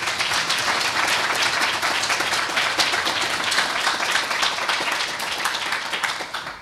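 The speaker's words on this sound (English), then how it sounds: "Please, let's give her another round of applause." Audience applause in a university lecture hall after a professorial inaugural lecture at Mandela University, a sustained, even roar of many hands clapping at close range for several seconds.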